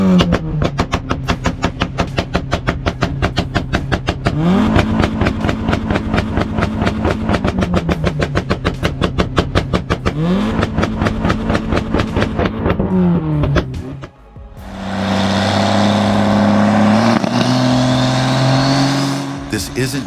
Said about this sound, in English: Feel the Honda Civic erupt in machine gun-like roars with every throttle